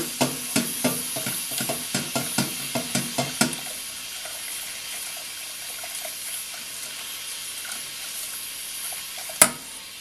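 Double cream warms in a pan, with a run of quick regular stirring or scraping taps in the first few seconds, then a quiet low simmer and one sharp clink near the end.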